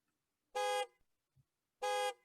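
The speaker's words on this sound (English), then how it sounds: "this is the equivalence for car in blind spot in auditory icons" An auditory-icon warning for a car in the blind spot gives two short, bright horn-like honks about a second apart, each clear and alone against silence.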